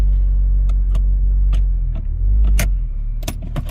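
A cold Honda Fit engine idles steadily just after starting, a low continuous rumble close by, with scattered clicks and light jangling sounds over it.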